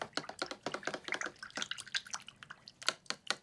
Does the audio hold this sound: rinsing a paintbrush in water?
yes